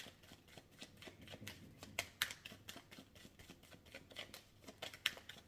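Oracle cards are shuffled for a reading, a quick run of crisp riffling flicks and soft slaps in close, quiet succession with no talk.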